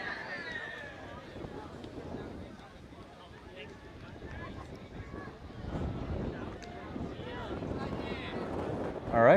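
Wind on an outdoor sports field during a Guts disc match, gusting and buffeting the microphone in uneven swells under distant crowd murmur and talk, rising sharply at the end.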